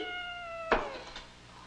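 A cat gives one drawn-out, tonal meow indoors, ending abruptly in a sudden sharp thump, followed by quieter rustling.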